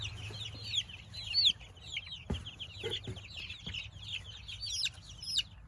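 Young meat chickens cheep and chirp continuously in a brooder, high, thin peeps, fairly quiet, with a few soft thumps and rustles in the background.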